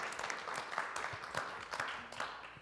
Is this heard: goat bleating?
no